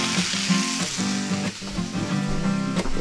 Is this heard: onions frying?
yes